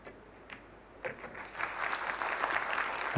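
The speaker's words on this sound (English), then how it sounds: "Very warm round of applause." An audience at a mixed doubles billiards final breaks into applause, which starts with scattered claps and swells quickly into a steady, warm ovation.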